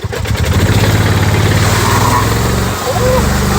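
Street car exhaust rumbling loudly up close at a drag racing event, a deep continuous engine growl with a brief dip near the end, with people talking over it.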